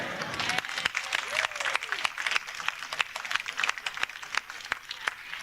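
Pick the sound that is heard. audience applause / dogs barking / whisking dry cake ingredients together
audience applause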